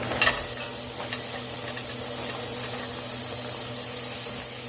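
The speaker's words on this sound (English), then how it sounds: "Ready for that sizzle?" Dense, continuous sizzling of vegetables frying in a hot pan, loud and close, starting with a brief burst of crackling.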